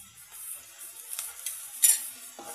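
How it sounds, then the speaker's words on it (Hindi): Turmeric powder cooks in a pan over a medium gas flame, giving a soft, faint sizzle broken by a few light stirring scrapes and one brief sharper clink. No voices. "अब हल्दी पाउडर को हम मीडियम गैस पे थोड़ी देर के लिए पका लेते हैं"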